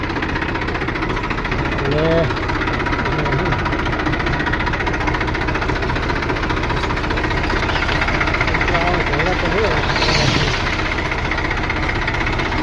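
A tractor engine runs steadily on a farm, a continuous low rumbling drone with a knocking, vibrating texture held at an even level throughout, with muffled voices faintly in the background.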